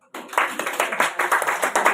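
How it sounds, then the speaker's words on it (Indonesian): A church congregation at an Easter service claps hands in a brisk, even rhythm, close and loud, beginning abruptly after a brief silence and continuing in regular beats. "Tepuk tangan."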